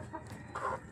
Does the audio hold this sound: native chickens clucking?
yes